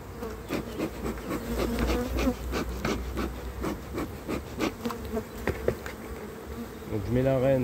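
Honeybees hum steadily around open nucleus hive boxes during a spring inspection and queen introduction, a close, continuous buzzing that swells and dips, with a few brief knocks of frames and handling in the background.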